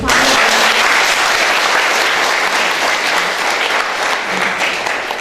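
A hall crowd at a commemorative event for veterans in Salyan claps loudly and steadily for several seconds, giving a dense, continuous wash of applause that tapers slightly toward the end.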